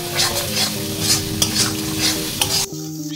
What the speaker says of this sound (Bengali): মশলা কষানোর উপর যে কোনো রেসিপির টেস্ট আসে, তো আমি এইভাবেই কষিয়ে নেব মশলাটা